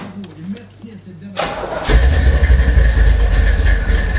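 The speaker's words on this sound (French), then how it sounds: "Ok, je la démarre, mais tu te dis pas à Charles." A Chevrolet Chevelle's engine cranks and catches after a person speaks, then roars into a loud, rough, rumbling idle that carries on steadily close by.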